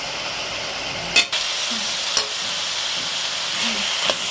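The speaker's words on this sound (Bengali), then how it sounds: "একটু গাজরটা একটু ভাজা হবে, তারপরে আমি চাউমিনটা দেবো।" Carrots frying in a pan for veg chowmein, a constant close hiss of sizzling oil with a few sharp utensil clinks against the pan.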